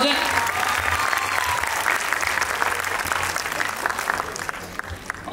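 Loud, sustained applause from an audience at the opening ceremony of a dance show, dense clapping filling the whole stretch without a break.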